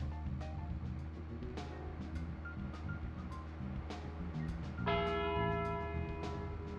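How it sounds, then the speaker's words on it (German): Church bell tolling in the video game Deadly Premonition, resonant ringing strikes over a low ambient drone, growing louder and more sustained near the end with no speech. "Das ist nur die Glocke."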